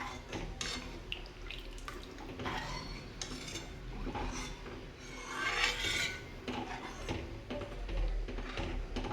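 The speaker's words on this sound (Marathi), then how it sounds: "छान चमच्याने ढवळून घ्यायचं आहे." A spoon scrapes and rasps against a pan while pithla, a thick gram-flour dish cooked with moong dal, is stirred; close, continuous scraping with brief louder strokes and no talk.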